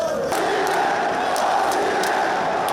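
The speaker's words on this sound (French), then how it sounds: "les supporters crient, applaudissent et chantent pour pousser leur équipe à la victoire" Football supporters at a match roar, shout and chant in a loud, continuous crowd din, with sharp bursts of clapping cutting through the sustained cheering.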